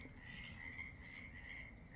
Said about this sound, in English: Do you hear that noise, that racket in the background? We got